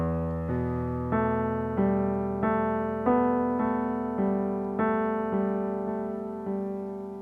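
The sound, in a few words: piano playing a chord passage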